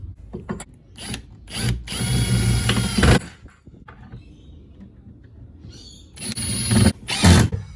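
A power drill drives screws through 90-degree brackets to fasten a rear bench inside a Mitsubishi Express short-wheelbase van during an off-grid camper build, loud whirring bursts of a few seconds each separated by quieter handling and clunks.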